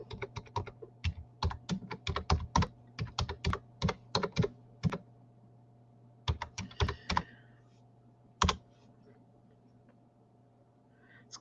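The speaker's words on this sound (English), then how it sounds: "Okay, I'm going to type it in." Typing on a computer keyboard: quick bursts of crisp, close keystrokes that pause and resume, ending with a few scattered single presses.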